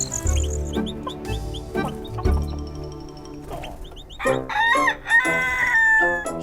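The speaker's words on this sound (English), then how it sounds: "Rusty the Rooster woke up with the sun." A rooster crows loudly several times over a lively cartoon-style background of music and other bird calls, with no spoken words.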